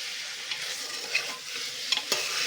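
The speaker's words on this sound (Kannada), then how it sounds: "ಚೆನ್ನಾಗಿ 1-2 ನಿಮಿಷ ಫ್ರೈ ಮಾಡ್ಕೊಳ್ಳೋಣ" Mutton fries in a pan with a steady close sizzle, while a utensil stirs and scrapes the meat in a few short strokes. No one speaks.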